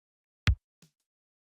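A drum beat is played through Ableton Live's Beats warp mode with the transient envelope at 50%. A single punchy kick is followed by a fainter, clipped hit, with silence around them.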